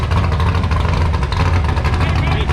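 A custom super truck's engine runs loud and close through newly fitted racing mufflers, a dense rough roar with a rapid pulsing beat that holds steady throughout.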